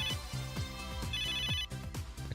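A repeating melodic phone ringtone from the video game Neptunia VIIR, bright chiming notes in a steady looping rhythm, loud and clear with no talking.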